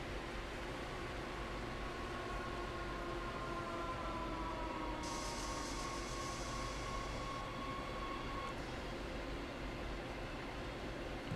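A commuter train in the Train Sim World Rapid Transit game rolls along with a steady, continuous rumble and rail noise, broken by a faint whine and a brief hiss partway through, with no talking.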